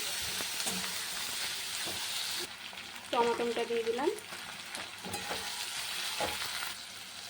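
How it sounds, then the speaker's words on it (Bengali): Steady sizzling of potatoes frying in a hot pan with green chillies, turmeric and salt, with occasional scraping stirs and a brief spoken remark partway through. "এবার আলুটা ভেজে নিই।"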